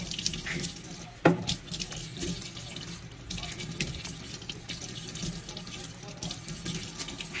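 Steady splashing of a running tap in a sink as water washes lip tint off the lips, continuous and close, with a brief clatter early on.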